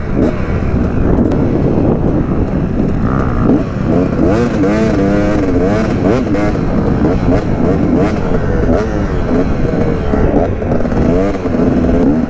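Dirt bike engine revving on a steep sandy mountainside, a loud continuous motor drone with rising and falling pitch, joined by wind buffeting and voices talking throughout.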